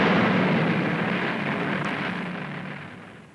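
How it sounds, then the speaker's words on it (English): A big explosion on a television broadcast bursts loudly at once, then rumbles and slowly fades away over a few seconds, with no voices over it. "Yeah, so it's bad. a wonderful explosion."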